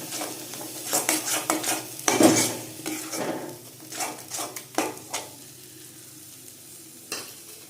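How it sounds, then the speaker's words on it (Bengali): Cumin, coriander, chili and turmeric powders being sautéed in a pan for potol chingri, with irregular spatula scrapes and clinks over a soft sizzle that thins out toward the end. "এবার দিয়ে দিচ্ছি জিরের গুঁড়ো ধনের গুঁড়ো লঙ্কা গুঁড়ো হলুদ গুঁড়ো এগুলো এবার এগুলোকে আমি ভালো করে কষিয়ে নেব"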